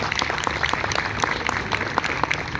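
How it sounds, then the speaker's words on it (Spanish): Steady, dense applause from an audience greeting a professor at a Spanish-language cultural talk in San Juan Nepomuceno, a continuous wash of many hands clapping at even volume for a few seconds. "lo recibimos con un fuerte aplauso"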